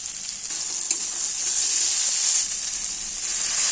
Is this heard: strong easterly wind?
no